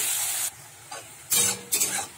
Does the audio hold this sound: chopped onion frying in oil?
yes